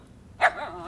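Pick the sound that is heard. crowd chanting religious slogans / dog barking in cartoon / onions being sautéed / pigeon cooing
dog barking in cartoon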